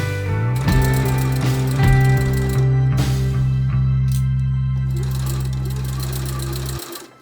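A sewing machine stitches silk velvet at a longer stitch length, its steady mechanical whirr running close and loud for nearly seven seconds before stopping abruptly.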